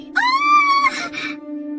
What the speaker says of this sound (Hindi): अचानक उसके मुंह से एक जोरदार चीख निकली।